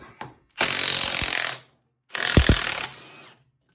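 A power tool loosens the 3/4 wheel bolts on an Ariens ST7 24 snowblower in two separate, loud, steady whirring bursts of about a second each, with rattling impacts near the end of the second burst.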